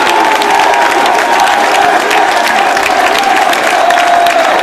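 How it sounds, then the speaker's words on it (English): Wrestling crowd applauding and cheering steadily after a moonsault, a dense, loud wash of clapping and crowd noise sustained throughout with no pause. "Crowd showing their appreciation for the athleticism of Christopher Daniels."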